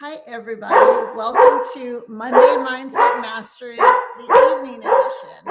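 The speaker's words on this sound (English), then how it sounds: "Sorry about the dog barking." A dog barks in repeated pulses at a house as someone comes to the front door, while a nearby voice talks steadily over the sound.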